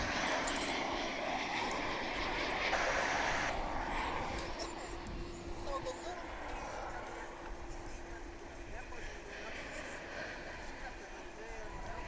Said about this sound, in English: Here comes American Flight 1186, arriving from Austin, Texas, 737-800.